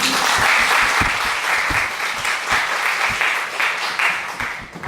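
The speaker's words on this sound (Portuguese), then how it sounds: "Podem aplaudir." Audience applause at a talk on LGBT people deprived of liberty, a continuous crowd clapping with a few sharp, distinct hand claps standing out close by, holding steady for several seconds.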